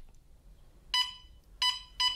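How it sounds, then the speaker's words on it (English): A plug-in home gas detector alarm gives three sharp electronic beeps, one followed by a quick pair, loud and close in a quiet room. "an alarm sounds warning you to get out"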